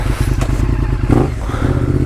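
An old motorcycle, about 20 years old and having trouble starting, runs with a steady low engine rumble and a brief rev near the middle, close by and loud, with no talk.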